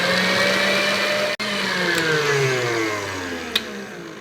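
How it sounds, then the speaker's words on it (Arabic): An electric hand mixer whips ghee for Lebanese ghraybeh shortbread, a steady close whir whose pitch slowly slides and sags as the load changes, broken once by a brief cutout, with no voices. "ما ضربتهم الخفاقه لاتاكد انه كل السمنه انخفقوا وصاروا صالحين للغريبه"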